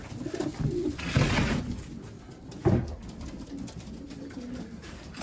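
Racing pigeons coo inside a loft, soft low throaty calls from several birds, with two fuller coos standing out over a steady background of faint cooing and rustle.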